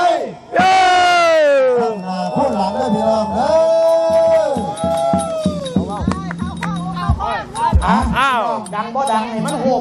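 A crowd at a Thai buffalo sale cheering three times in unison, each loud, near chorus of voices rising and falling, with an announcer's voice between the shouts.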